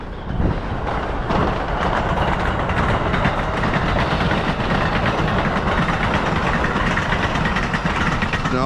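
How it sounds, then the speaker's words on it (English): A train rolls past nearby with a dense, continuous rumble and faint clickety-clack of wheels on rails, loud and steady for the whole stretch, with wind in the background. "Oh, here comes the train."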